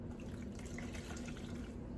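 A washcloth is rinsed in a bucket of water during personal care, giving a steady close swishing and trickling of water that runs without a break and has no talk over it.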